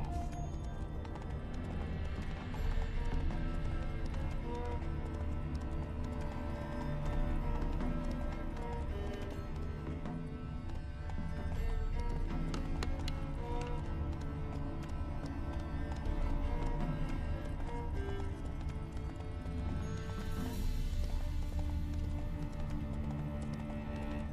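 Horse hooves clip-clopping at a trot in the video game The Witcher 3, a heavily laden horse, steady rhythmic hoofbeats over a dense layer of game music, with an occasional faint whinny.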